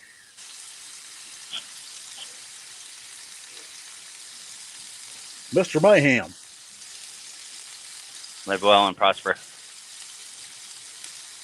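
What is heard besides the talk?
food sizzling in a pan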